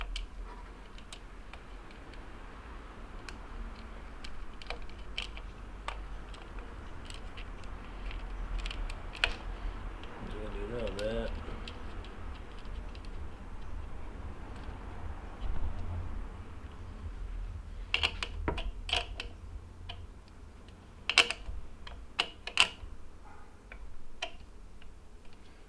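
Small metal clicks and ticks of a washer and nylock nut being fitted onto a motorbike lap timer, scattered taps and brief ratchety clatter over a low steady background hum, close by, with no talk.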